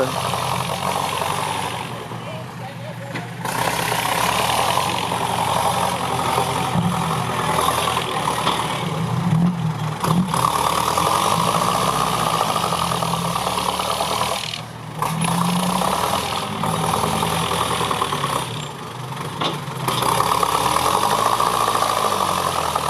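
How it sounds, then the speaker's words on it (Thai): A Yanmar EF494T diesel tractor engine with a straight-through exhaust idles steadily throughout, a low chugging rumble with a few brief dips, recorded close up and fairly loud. "ยันมารถไถสัญชาติญี่ปุ่นครับ"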